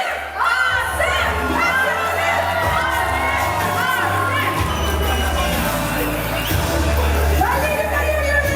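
An event crowd cheering and shouting for actor Asif Ali, a loud, continuous mass of whoops and excited voices with a rhythmic chant underneath.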